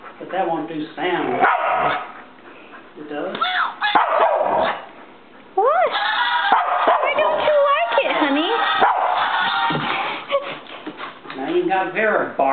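A dog barks and growls in repeated sharp bursts and whimpering yips, close and loud, while someone talks over it, upset by a Razorback.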